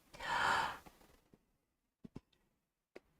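A person imitates abnormal breathing with one big, deep gasping breath lasting about a second, followed by quiet, a few faint clicks and small breathy sounds, all close and clear.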